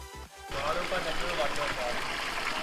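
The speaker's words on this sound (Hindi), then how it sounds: "ये पानी भैया पहाड़ों से आ रहा है?" Clear mountain water flows in a stream near Katra, rushing steadily and fairly faintly after a short opening of voices, with people talking briefly at the start.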